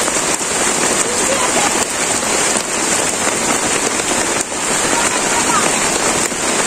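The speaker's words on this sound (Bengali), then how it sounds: "ভালো বৃষ্টি নামছে" A downpour beats steadily on a rural village, thick, unbroken rain hiss with drops spattering on hard surfaces, loud and near throughout.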